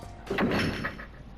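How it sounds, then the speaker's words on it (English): The data center door in the video game Danganronpa slides shut with a brief heavy rumble and thunk, a single close-sounding closing motion over faint background hum. "As soon as the door to the data center was closed, I heard a strange sound."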